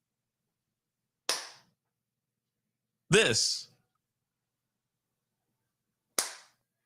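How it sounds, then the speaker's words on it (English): Three separate sharp hand claps ring out with long silent gaps between them, loud and close, the middle one fuller and longer than the others. "the claps are never on beat"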